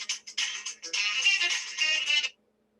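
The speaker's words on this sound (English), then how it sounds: "my boyfriend's phone just started ringing" A mobile phone ringtone plays as a bright, bouncy melodic tune of several short phrases for a couple of seconds, then stops abruptly into silence.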